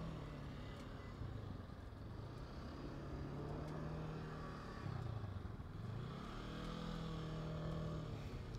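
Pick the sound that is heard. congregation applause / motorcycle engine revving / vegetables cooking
motorcycle engine revving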